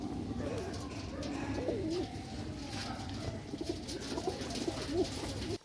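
Pigeons kept for flying contests coo close by in repeated, throaty rolling phrases that overlap one another, with faint background voices now and then.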